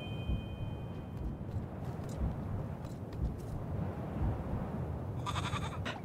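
A goat bleats in the video game Little Goody Two Shoes, a steady wavering animal cry running over a low rumbling ambient bed, with a brief brighter chime near the end.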